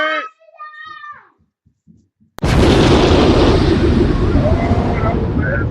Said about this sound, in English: Explosion there.